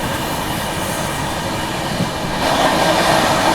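Steady, loud rumble and rushing roar of an Indian express train running alongside and overtaking another express train, with a slight swell in intensity toward the end and no talking.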